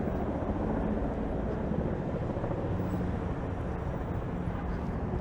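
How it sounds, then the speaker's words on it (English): Helicopters circle above a downtown Toronto street in December, a steady low rumbling drone that fills the background without letup, with no clear rotor beat standing out. "I wonder if those helicopters are circling"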